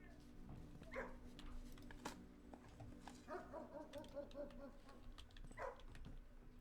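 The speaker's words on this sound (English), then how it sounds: "Puppy." A puppy in the Blue Prince video game barks and yips in short bursts, with a whimpering whine in between, heard moderately close over faint background sound.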